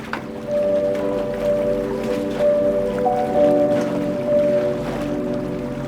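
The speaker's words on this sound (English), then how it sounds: "You need to board a vehicle ferry once you reach Baratang" A vehicle ferry's steady low engine hum with tonal drones carries on over several seconds near Baratang in the Andaman Islands, with faint splashy water noise and occasional small knocks.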